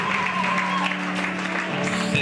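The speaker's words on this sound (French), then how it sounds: "Vous applaudissez, s'il vous plaît." Guests applauding at a wedding ceremony, a short burst of clapping over a steady background hum with a faint tone, brief and fairly loud.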